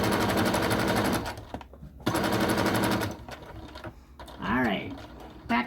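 A sewing machine stitches a fabric envelope-style pillow cover close by in quick, rattling bursts that stop and restart for back stitches, and a voice speaks during the pauses.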